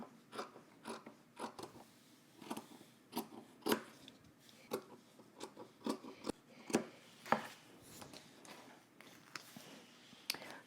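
Scissors snip around a sewing pattern piece with a sticky backing for a Simplicity S9917 garment, a quick irregular series of close, crisp cuts and rustles, quiet and without talk.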